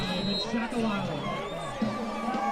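Crowd in the stands at a high school football game, a steady murmur of chatter and babble in the background while a commentator talks over it.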